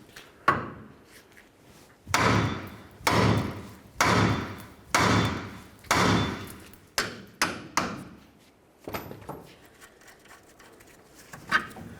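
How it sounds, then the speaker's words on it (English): A series of sharp metallic hammer blows on the steering knuckle of a Ford Ranger, about a dozen, struck in a steady rhythm at close range, some quicker and lighter toward the end. "hit right along this area with my hammer"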